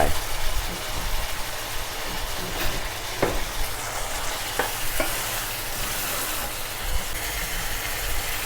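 Pork intestines sizzle loudly and steadily in a hot pan as they are stir-fried with fish sauce for a dry-chili basil stir-fry, with scraping stirs and a few sharp knocks against the pan.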